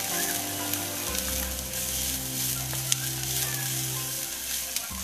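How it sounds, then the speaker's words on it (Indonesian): Spring onion and onion sautéing in a pan, with a steady soft sizzle and occasional stirring clicks, mixed with a low continuous hum in the background. "Daun bawang dan bawang bombay dimasukkan, ditumis hingga tumis sampai harum"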